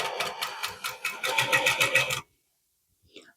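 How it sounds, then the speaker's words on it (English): A sewing machine stitches fabric under a presser foot in a rapid, rhythmic mechanical clatter for about two seconds, then stops abruptly, followed by near silence and a faint brief click. "So let me just sew this through for you and show you."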